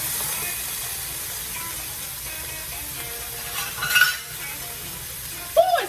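Vegetables sauteing in a pan, a constant close sizzle with a couple of brief utensil scrapes and clinks.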